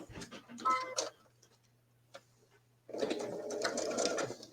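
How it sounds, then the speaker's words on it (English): A sewing machine stitches quilt pieces in short bursts of steady mechanical whirring, close by, with brief pauses and a faint low hum between runs. "So we're going to sew these down, and I do them in pairs."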